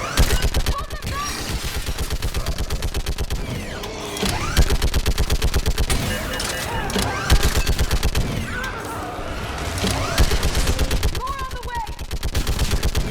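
Sustained automatic gunfire in a Mass Effect 3 battle, dense rapid bursts rattling almost continuously with occasional heavier blasts, while shouted voices call out over the shooting.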